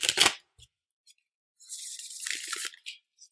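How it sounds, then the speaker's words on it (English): Rider-Waite tarot deck being shuffled by hand, a quick riffle burst at the start, a few faint card taps, then a longer papery riffle and a short final flutter, close and quiet. "You can give this a couple more shuffles."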